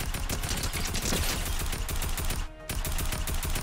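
Rapid automatic gunfire from Fortnite rattles in a dense, loud burst of shots, pausing briefly for a moment before the rapid firing resumes.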